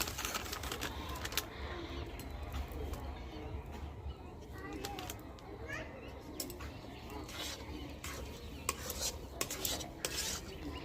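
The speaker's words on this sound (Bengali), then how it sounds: "এর মধ্যে দিয়ে ঠিকভাবে ভালোভাবে নেড়ে নিচ্ছি" Semolina malpua batter being stirred in a bowl, with continuous scraping and tapping of a utensil, occasional sharper clinks and faint background sounds, close and moderately loud.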